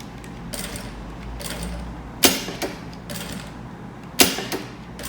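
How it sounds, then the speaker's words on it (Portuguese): A sewing machine stitches slowly through rubberized nylon for a tote bag, producing soft mechanical clicks and thumps at an unhurried, irregular pace, with two sharper knocks standing out. "Aqui eu gosto de costurar devagar"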